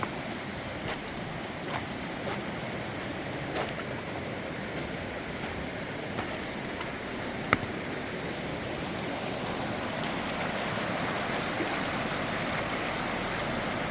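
A creek at World's End State Park rushing past boulders, a steady, even wash of flowing water with faint scattered splashes, heard alone at moderate distance.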